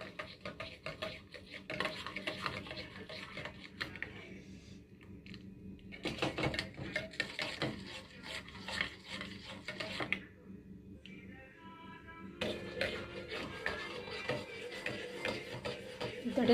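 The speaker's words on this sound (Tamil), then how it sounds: "அப்படியே ஜென்டிலாக கலக்கிக்கலாம்." Gentle stirring of Bru coffee in a cup, with soft rapid clinks and scrapes of a spoon against the sides coming in bursts with brief pauses, quiet and close.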